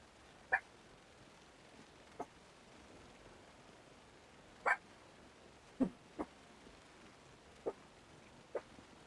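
A dog barks indoors in short, sharp single yaps, about seven of them spread unevenly over several seconds, fairly faint against a quiet room background with no talking.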